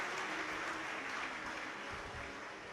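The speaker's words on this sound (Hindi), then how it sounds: "एक बार जोरदार ताली" Audience applause at a Shiv Mahapuran religious discourse, a steady continuous wash of many hands clapping for the whole stretch, fairly faint and distant with no voices over it.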